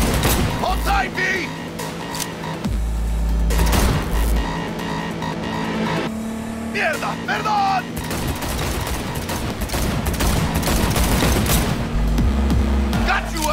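Gunfire during a car chase in Cyberpunk 2077, with bursts of automatic shots and loud impacts over a roaring car engine. Characters shout and talk throughout.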